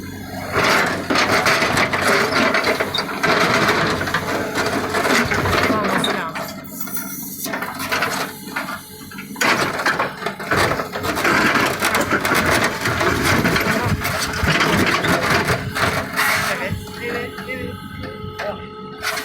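A digger bucket labours through garden work, a busy stretch of grinding, crunching and clanking that runs steadily loud for the whole span, with voices talking over it at times.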